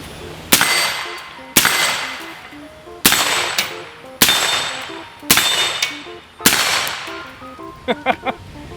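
Suppressed 11.5 rifle firing six loud, sharp shots spaced roughly a second apart, each with a brief metallic ring and decay, followed by a quick cluster of faint clicks.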